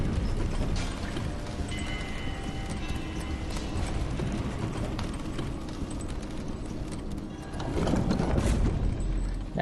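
An elevator mechanism in Elden Ring, its rhythmic clanking and ratcheting gears running steadily, with a slight swell toward the end and nothing else over it.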